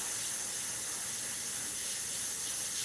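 Steady airbrush hiss spraying Createx paint onto a stencil on Blair synthetic paper, a continuous close, even spray with no voices.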